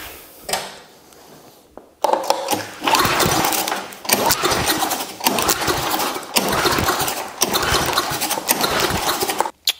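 Someone pull-starts a heavy, 50-year-old lawn mower engine that does not catch. After a quiet stretch come repeated loud, close, rasping cranking bursts, each about a second or two long, with short pauses between them.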